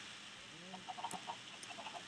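Chickens in Minecraft give a few soft, scattered clucks, short chirpy notes spread across the moment over faint background sound, with no talk.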